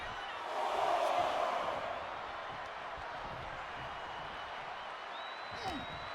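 Arena crowd in the WWE 2K25 wrestling game at Wrestlemania, swelling into a loud cheer for a second or two, then settling into a steady murmuring roar under game sounds.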